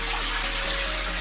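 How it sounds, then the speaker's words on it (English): A household toilet flushes with a loud, steady rush of water, close and continuous, with no talk over it. "I just went to the toilet, so you can hear a flush."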